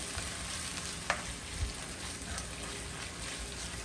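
A sauce with chicken broth being stirred in a pan while fish is prepared in ginger sauce, giving steady soft sizzling and frying hiss throughout, with a brief scrape of the spoon and no talk.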